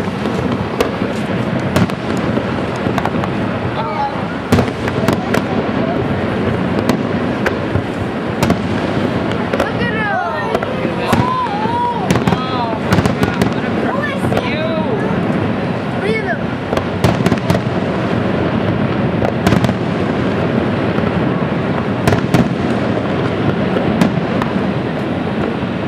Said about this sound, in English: Dinner in our room and fireworks.